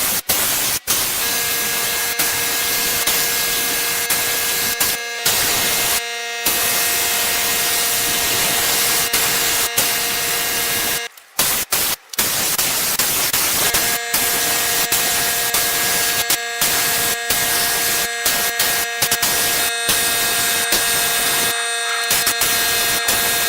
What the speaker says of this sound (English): Two coats now on the chair and we're ready for the final spray.